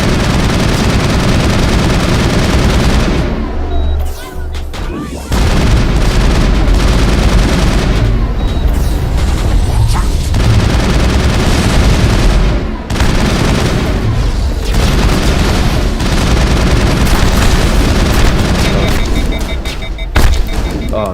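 Gunfire in the Mass Effect video game, loud and sustained, with dense bursts of shots and booms running almost continuously and only brief lulls.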